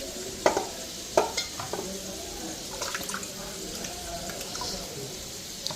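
Chicken livers are washed by hand in a pot of water, giving sloshing, splashing and clinking sounds at close range, with a voice speaking partway through.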